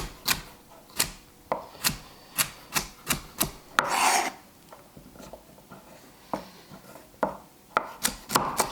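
Rhythmic knife chops on a board, cutting carrots, sharp and close, in quick bursts with a short scraping sound midway and a pause before more chopping.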